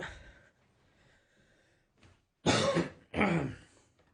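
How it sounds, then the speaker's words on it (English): Two harsh, raspy coughs in quick succession after a quiet stretch with a faint breath, fairly close and loud. "Mad Corona cough, eh?"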